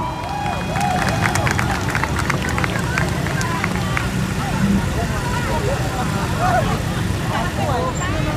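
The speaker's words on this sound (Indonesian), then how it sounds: "Kita tepuk tangan, kawan-kawan." Students at an outdoor rally near the presidential palace clap in a scattered, ongoing patter beneath loud crowd hubbub and overlapping voices, with traffic noise in the background.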